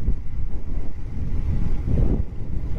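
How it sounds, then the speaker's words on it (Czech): Steady north wind buffeting the microphone on an autumn road ride on a road bike, a continuous low rumbling roar with gusty swells and no talk. "tak fouká ze severu jak teď"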